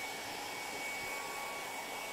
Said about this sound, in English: you can turn the hairdryer off then